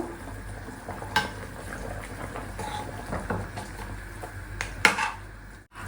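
Pieces added to simmering country chicken curry in a pot, soft clatters and a few sharp metallic knocks from a utensil over a low steady cooking hiss, close, without talking.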